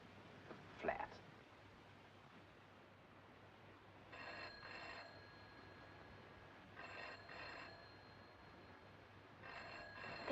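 An old-style telephone bell rings in three distinct double bursts, spaced a few seconds apart, over a quiet room with faint background noise and a brief earlier rustle.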